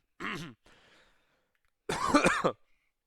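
Two close coughs separated by a short pause, the second longer and harsher, heard alone in a quiet room during an online game.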